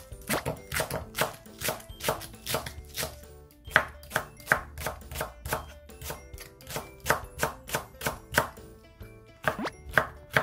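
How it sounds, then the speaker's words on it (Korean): Steady rhythmic knife chopping of vegetables on a cutting board, sharp close knocks repeating roughly twice per second with brief pauses, no voices. "들어갈 야채를 썰어 보겠습니다."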